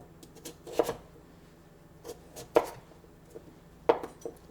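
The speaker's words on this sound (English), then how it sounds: "then you can cut them up like this" A knife chops a butternut squash into pieces on a board, producing three distinct, close, crisp cuts spaced about a second and a half apart, each with a sharp thunk and a short scrape in a quiet room.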